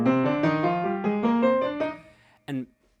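A piano scale runs upward with uneven timing and tone, some notes rushing, others dragging, and a few louder than their neighbours, ending in a brief short chord after a moment's pause.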